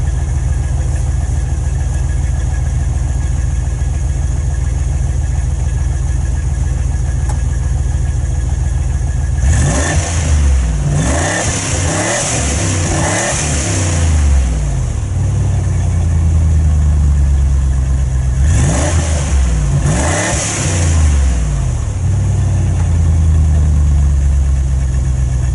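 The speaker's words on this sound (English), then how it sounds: "I'll just give her a quick blip of the throttle." Range Rover P38 engine idling loudly nearby, broken by two clusters of sharp throttle blips that rise and fall quickly, the first around mid-clip and the second a few seconds later.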